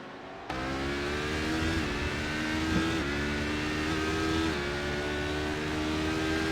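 Race cars in a sim racing endurance event at Spa thunder past through Eau Rouge, a loud steady engine roar with shifting pitch that holds throughout, close and continuous with no talk.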